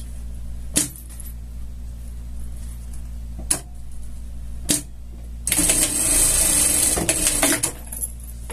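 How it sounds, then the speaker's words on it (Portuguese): A sewing machine runs a seam joining the two sides of a costume, with sharp separate clicks and then one loud whirring burst of stitching near the end, close and clear. "Agora aqui a gente vai passar uma costura juntando"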